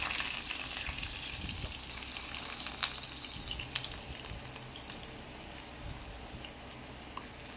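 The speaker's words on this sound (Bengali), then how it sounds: "আমি এক এক করে এই চাল কুমড়ো কাটাগুলোকে দিয়ে দিব।" Ash gourd pieces fry in hot ghee in a kadai, making a soft, continuous crackling sizzle with scattered small pops, quiet and close throughout.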